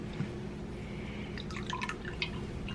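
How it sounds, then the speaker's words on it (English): Liquor splashing and dripping into a shot glass, a short trickle of liquid with small drips and glassy clinks, close and fairly quiet over steady background noise during a storm. "Put a little splash in this one."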